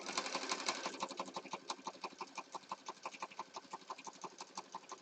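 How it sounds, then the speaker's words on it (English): A sewing machine stitches around canvas in a fast, even rhythm of repeated mechanical clicks, fairly close and alone. "now I'm going to sew around the ivory portion of the canvas"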